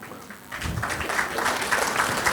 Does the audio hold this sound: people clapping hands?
yes